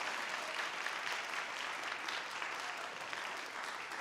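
Audience applause at a senior academic and athletic recognition ceremony, a steady dense clapping that fills the room and holds even for about four seconds with no voices on top.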